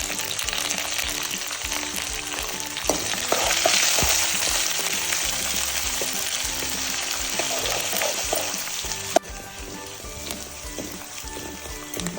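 Peanuts, chana dal, green chillies, onion and carrot frying in a hot tempering, a steady loud sizzle with occasional stirring scrapes, close and continuous with no talk.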